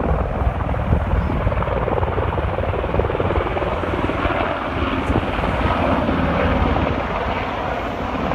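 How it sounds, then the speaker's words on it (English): A helicopter flies over a rocky beach by the ocean, its steady rotor thump and engine drone loud and continuous throughout. "And I hear helicopters."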